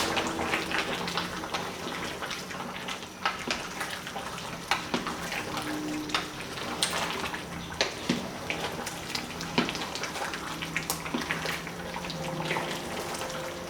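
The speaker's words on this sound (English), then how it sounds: "I'll quickly mix it up." A spoon stirs cornstarch slurry through a simmering Cantonese beef and potato stew, with a constant bubbling wash broken by scattered soft clinks and splashes.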